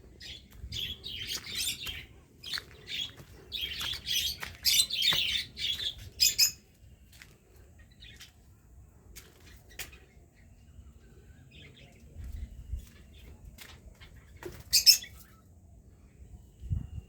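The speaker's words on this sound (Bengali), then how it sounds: "এই যে দেখুন এখানে পাখি" Birds chirp and squawk in bursts at Jhilli bird sanctuary in Jhargram, with a cluster of calls early on, then quieter ambience and a few sharp calls later.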